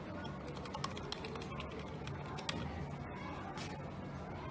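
Keys on a failed computer keyboard are pressed, giving irregular light clicks and taps close by over a steady background hiss.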